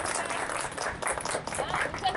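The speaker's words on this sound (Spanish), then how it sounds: "Y eso, un aplauso para Frank." An audience claps after a call for applause at a Spanish-language book presentation, a short burst heard under and around continuing talk.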